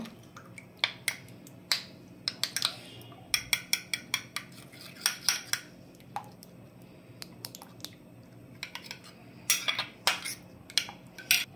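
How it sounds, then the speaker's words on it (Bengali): Eggs and sugar mixed together in a bowl, a utensil clicking and tapping sharply against the sides in uneven clusters, with soft wet squishing between the strikes. "ডিম চিনি একসঙ্গে মিশ্রণটা, কুসুমটা একটু ফাটিয়ে নেব।"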